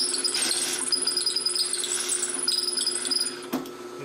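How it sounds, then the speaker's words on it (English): A drill press trimming a pen barrel whirs steadily with a high whine and scraping as it cuts, then stops abruptly near the end. "I have a lot of control with my drill press"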